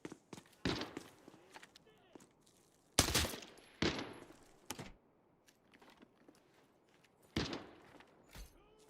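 Scattered gunshots from another player in Arena Breakout Infinite, a few sharp loud cracks spaced irregularly among quieter distant pops and footstep-like shuffles, with a voice talking over parts of it.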